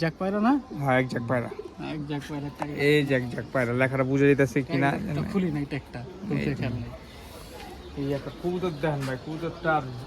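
Pigeons coo in low, throaty murmurs beneath a person talking steadily throughout.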